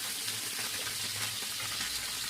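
Fish pieces rubbed with salt and turmeric fry in a small wok, giving a steady, close hiss and crackle of hot oil that runs evenly throughout with no voices.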